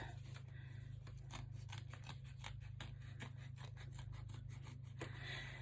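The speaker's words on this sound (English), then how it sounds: "I'm going to go ahead and just cut around here and getting it close" Scissors snip repeatedly through fabric while trimming close around a satin-stitched zipper bag, a quiet, steady run of short cuts over a constant low hum.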